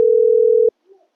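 A phone call's ringback tone plays as one steady electronic beep lasting under a second, then cuts off while the call goes unanswered, followed by a faint murmur.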